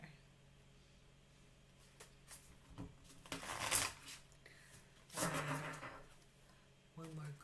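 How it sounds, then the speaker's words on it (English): Tarot cards shuffled by hand in bursts of riffling and sliding, fairly close, with quiet pauses between. "One more good shuffle."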